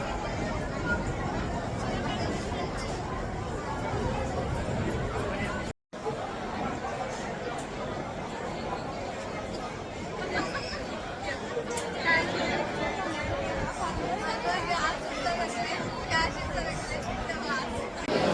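Dense, steady babble of many voices from a packed darshan queue at Tulja Bhavani temple, continuous crowd chatter close around with one brief dropout partway through.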